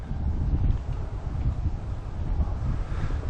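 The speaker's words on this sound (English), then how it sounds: "Hopefully this gustily northerly wind is short-lived." Gusty northerly wind at a lake, buffeting the microphone with a loud, continuous low rumble that swells and eases throughout, no voices present.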